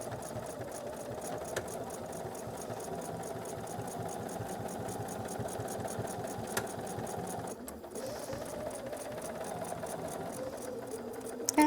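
A sewing machine runs steadily stitching a drawstring bag sewn from squares of fabric, a fast even mechanical chatter that pauses briefly midway and then resumes, fairly quiet and steady.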